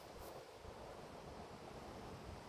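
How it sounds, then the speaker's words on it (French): Wind blows outdoors on a cloudy day, a constant close rushing roar buffeting the microphone with no speech. "J'espère que vous n'êtes pas trop embêtés par le vent."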